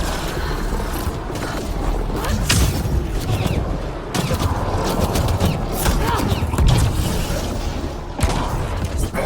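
Turret gunfire in the sci-fi shooter Mass Effect Andromeda, repeated sharp bursts and booming impacts in a dense, continuous battle mix, with voices talking over the fighting.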